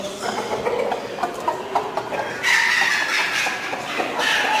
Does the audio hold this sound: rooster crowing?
yes